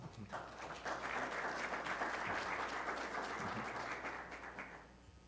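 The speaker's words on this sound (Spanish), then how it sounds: "te recibimos con un fuerte aplauso." An audience at an energy-efficiency-in-transport forum breaks into strong applause that swells quickly, holds steady and full for several seconds, then tapers off near the end.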